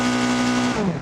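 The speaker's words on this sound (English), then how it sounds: "Oh, with the loud engine." Loud engine of a 1970s Soviet-style car in the Automation game, a steady droning roar with strong harmonics that holds throughout, then shifts pitch near the end as the revs change. No voices.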